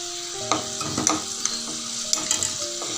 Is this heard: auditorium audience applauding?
no